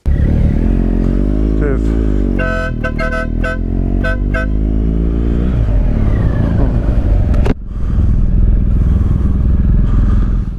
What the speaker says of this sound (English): this newly tuned 129 brake horsepower at the wheel R1250GS Adventure